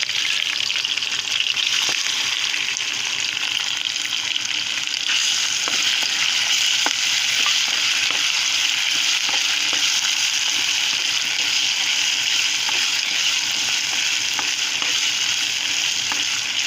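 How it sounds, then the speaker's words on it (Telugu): Masala paste fries in oil after tempering for a potato kurma, a steady, close sizzle with faint stirring clicks and no talking. "తాలింపు వేగిన తర్వాత పేస్ట్ చేసి పెట్టుకున్న మసాలా వేసుకుందాం."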